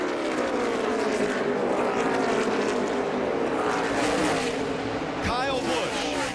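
NASCAR stock cars roar past on the track during the Apache Warrior 400 playoff race, a loud continuous engine drone with a sharp pass-by sweep near the end.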